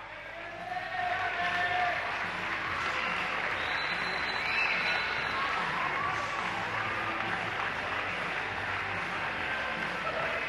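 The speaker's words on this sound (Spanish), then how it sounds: "Pedimos un muy fuerte aplauso" Applause for a kickboxer at a boxing event, a steady wash of crowd clapping and cheering filling the hall throughout, with an announcer's voice over it.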